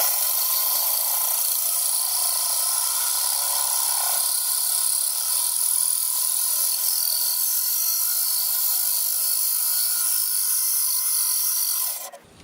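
A drill bit grinds slowly through aquarium glass under only its own weight and the drill's, making a loud, continuous high rasping whine that holds steady for about twelve seconds before stopping abruptly.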